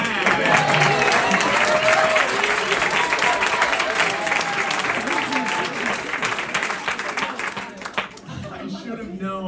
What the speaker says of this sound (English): Round of applause for my mom and dad.